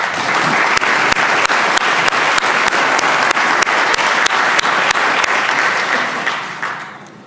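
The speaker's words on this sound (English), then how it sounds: "I hope the House will give them a warm round of applause." Legislators in the Virginia House chamber deliver a warm, full round of applause for a visiting group. Dense, even clapping with sharp individual claps poking through continues steadily, then tapers off at the end.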